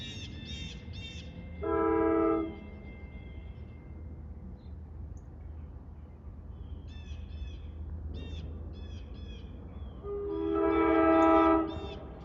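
A Long Island Rail Road DE30AC diesel locomotive arrives at Glen Head station, sounding a bled K5LA horn in two loud blasts, with engine rumble underneath and birds chirping in the background.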